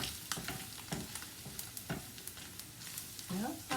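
Flour is stirred into sizzling bacon fat to make gravy, producing a soft, continuous sizzle with repeated scraping strokes of a spoon or whisk against the pan, quiet and close.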